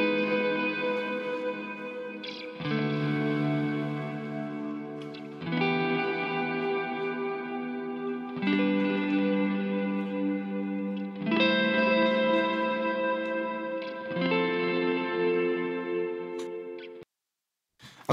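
Ambient electric guitar chords swell in slowly through Guitar Rig 6 delay and reverb plugins, with a reverb decay of about 2.8 seconds. Six soft-attack swells overlap into long washing tails, then the sound fades to silence.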